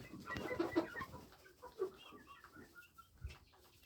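Soft clucking and brief calls from Silkie chickens, fairly quiet and scattered, with faint farmyard rustle in the background.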